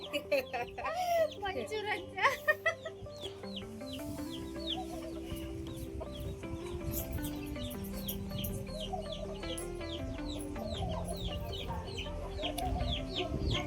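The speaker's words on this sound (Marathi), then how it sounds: "कोंबड्या खूप खाव खाव करते" Desi village hens on a poultry farm cluck repeatedly in short, uneven bursts, with a rooster-like call mixed in; after the first few seconds a steady musical tone runs beneath the flock, and a voice speaks at times.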